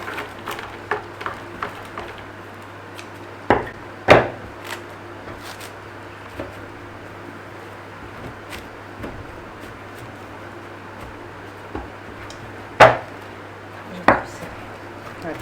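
A knife slices through a chocolate traybake, giving a few sharp, distinct cutting clicks at irregular intervals over a steady low background hum, with no talking.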